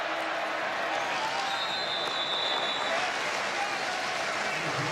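A packed stadium crowd roars steadily at a Baylor vs Kansas State college football game, a dense, continuous wash of cheering and noise under a broadcast commentator's voice.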